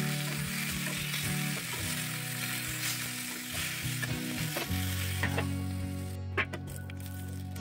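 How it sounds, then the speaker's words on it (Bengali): Eggplant slices fry in hot oil in a pan, giving a loud, steady sizzle throughout with occasional clinks and scrapes, and a sustained tonal hum underneath. "এবার বেগুনগুলো একটা একটা করে ছেড়ে দিলাম তেলে দিয়ে"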